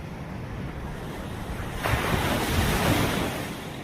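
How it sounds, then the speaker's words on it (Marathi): Sea waves washing ashore on the Konkan coast make a steady broadband roar with wind noise, swelling louder as a larger wave breaks partway through and then easing slightly. "समुद्राच्या लाटा"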